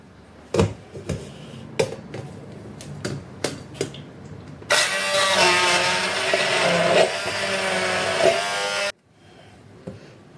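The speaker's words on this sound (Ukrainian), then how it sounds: "І починаю збивати блендером." Several sharp clunks and taps, then a blender whipping milk whirs loudly for about four seconds before cutting off abruptly into near silence.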